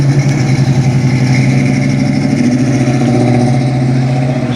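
Classic custom car at an outdoor car festival, its engine idling with a loud, close, lumpy rumble and a slight rev rising mid-way, with no talk over it.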